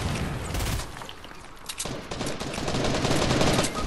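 Rockets and gunfire in a Fortnite Chapter 2 video game crackle in dense rapid bursts, loud and sustained, with a booming rush between volleys.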